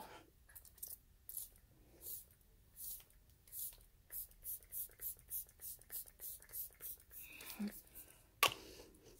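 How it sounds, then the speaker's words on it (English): Quick, evenly spaced hissing spritzes from a Marc Jacobs coconut water face mist spray bottle, close and soft, with a few faint rustles and clicks between bursts. "I think I'm going to spray it with the Marc Jacobs coconut water"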